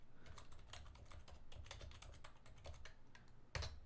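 Someone types on a computer keyboard while entering a host address during a Cisco router IOS update, a quick uneven run of near, crisp key clicks closing on one louder keystroke, with no voices.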